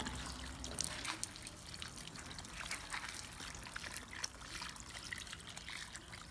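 Water is poured directly onto coco peat growing medium in a plant container, a soft continuous trickle and splash at low level, steady for several seconds without talk.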